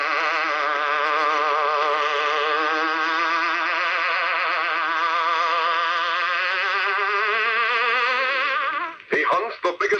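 A steady, loud, wavering insect-like buzz serves as the hornet sound effect for the Green Hornet radio show, holding for about nine seconds before breaking into short noisy bursts.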